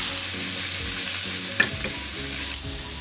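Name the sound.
sautéing ginger, grated carrot and curry leaves for quinoa upma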